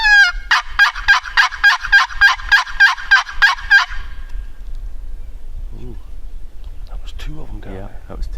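Several wild turkeys gobble off the roost in a New York spring woods, a rapid repeated series of loud, close, rattling gobbles, followed by quieter distant gobbles and faint low talk.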